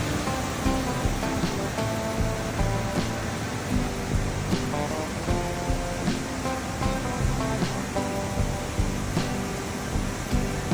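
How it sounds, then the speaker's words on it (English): Waterfall in Georgia, a steady broadband rush of falling water, continuous and fairly even from start to end with no voices. "we got to see this amazing waterfall"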